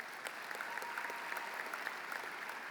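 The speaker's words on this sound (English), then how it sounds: "One more round of applause" A high school commencement audience applauds, producing a steady, fairly distant patter of many hands clapping throughout with a few sharper individual claps standing out.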